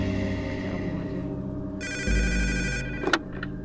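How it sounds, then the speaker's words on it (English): A telephone rings with a steady electronic trill under a hum of background sound, a couple of bright ring bursts close by, ending with a short clunk. "Oh, it's the phone thing again."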